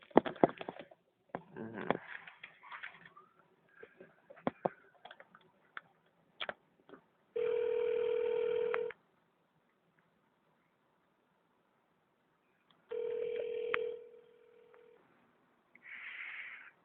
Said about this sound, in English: Now let me call this phone number.